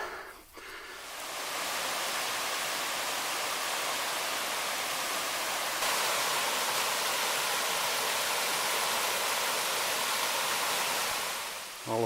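Seven Mile Creek in Nicollet County, Minnesota flows steadily through a ravine, a broad continuous hiss like a creek or small falls, close by and unbroken for the whole stretch.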